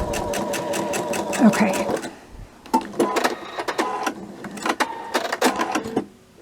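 Domestic sewing machine stitching quilt blocks in close, rapid bursts, a long run followed by shorter start-stop runs, with a voice speaking briefly between them.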